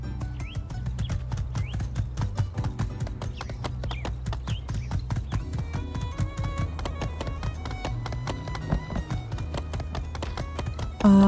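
Steady clip-clopping horse hooves from a ridden horse in the video game My Time at Sandrock, a brisk continuous gait over a looping game soundtrack, fairly loud with no talking.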